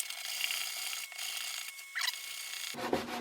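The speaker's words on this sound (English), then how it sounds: "So I should be able to just sand up the bottom edge of that veneer piece just a little bit" Hand sanding the edge of a wood veneer piece with 220 grit sandpaper on a model kit assembly: close, steady raspy rubbing strokes, a few brief surges, and a sharper scrape near the end, with no talk.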